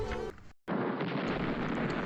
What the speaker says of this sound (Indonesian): Suatu hari, terjadi ledakan di beberapa bangunan